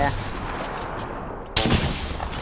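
Gunfire bursts out in an Apex Legends match, first as a steady rattle under game noise and then as a sharp, louder volley partway through.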